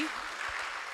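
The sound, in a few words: audience applauding the doctor's presence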